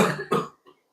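A person coughs twice in quick succession, close and loud, with a faint short throat sound after and no other noise.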